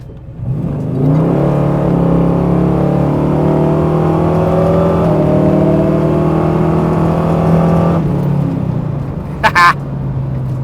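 A Fox Body car with a Godzilla engine swap accelerates hard, its loud, steady engine note climbing through the gears for several seconds before backing off, recorded up close from inside the car.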